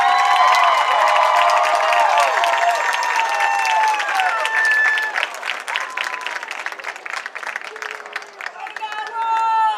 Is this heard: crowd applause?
yes